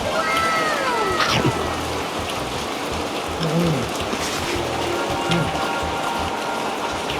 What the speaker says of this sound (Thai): ฝนก็ตกไม่หยุดเลยครับ